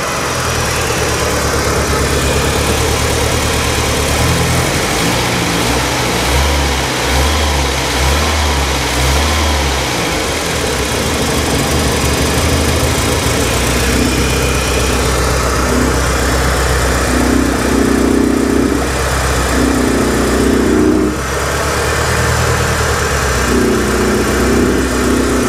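A 1989 Winnebago LeSharo RV engine idles steadily after an idle fix, a continuous close mechanical hum with a low, even throb and slight fluctuations, with no talking over it.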